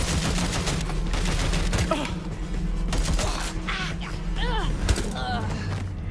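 Gunfire erupts in the video game Watch Dogs Legion, with a dense, continuous barrage of shots and sharp impacts over the action, along with other game effects.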